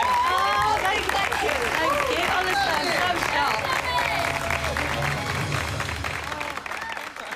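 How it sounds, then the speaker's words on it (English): A studio audience applauds and cheers for a guest on a live BBC entertainment show at Eurovision 2023, steady, loud clapping from a crowd throughout while someone speaks over it, gradually easing toward the end. "Round of applause for Debbie."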